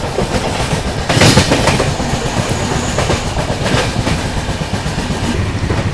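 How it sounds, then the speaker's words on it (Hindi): A CR Rajdhani Express rolls at speed just past Khandwa Junction, heard from on board as a loud, continuous rumble with rhythmic clickety-clack of wheels over rail joints and no voices. "भाई सीरियसली ट्रेन अभी जस्ट खांडवा जंक्शन से निकली है।"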